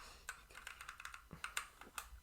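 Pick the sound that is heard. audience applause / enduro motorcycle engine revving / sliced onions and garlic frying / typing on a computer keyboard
typing on a computer keyboard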